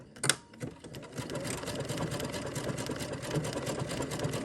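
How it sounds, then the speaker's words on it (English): A SewFine UltraTech sewing machine stitches out decorative stitch 6-65 along a seam, a steady close mechanical whirr and rapid needle clatter running continuously after a brief sharp click at the start. "I'm going to stitch out stitch 6-65"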